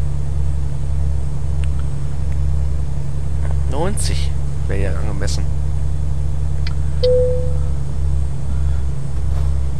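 A truck engine in Euro Truck Simulator 2, driving on the left on an English two-lane road, hums as a low steady drone throughout while someone talks over it.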